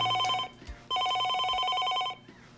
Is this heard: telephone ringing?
yes